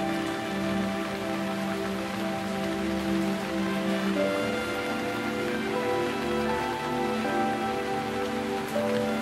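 Video game rain pours down continuously, a dense hiss of drops on surfaces, layered with a sustained low droning tone throughout, no voices.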